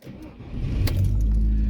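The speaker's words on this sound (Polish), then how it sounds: "odpalamy auto, kurna" A Skoda car engine cranks and catches about halfway through, then settles into a loud, steady idle rumble heard up close, with a brief metallic jingle near the start.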